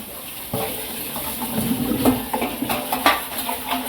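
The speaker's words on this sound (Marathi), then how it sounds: "मी स्वच्छ पाण्याने चांगले धुतले" Water sloshes and splashes as potato slices are rinsed by hand in a bowl, with soft clinks and swishing throughout.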